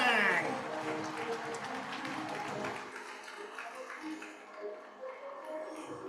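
Applause from an audience at a corporate HR awards ceremony, a dense wash of clapping that thins after a few seconds, with a voice talking over it.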